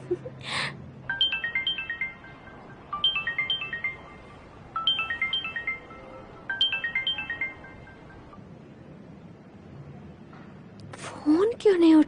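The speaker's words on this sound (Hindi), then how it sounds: "फोन क्यों नहीं उठा रहा?" A telephone ringtone chimes in four repeated melodic bursts with pauses between them and goes unanswered, fairly clear over a low background hum, followed by a brief voice at the end.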